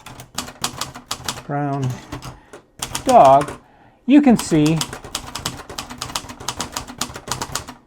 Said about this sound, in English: I'm typing what I'm saying here